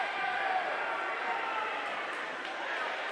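Steady crowd murmur filling a high school basketball gym during a disputed goaltending call, a dense continuous buzz of many voices at moderate level with no single voice standing out.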